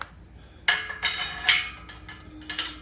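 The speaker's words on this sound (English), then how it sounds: "Now I've got to screw one in here." A bolt being screwed into fitness equipment with a ratchet, several bursts of metallic clicking close by, uneven and fairly loud with no talking.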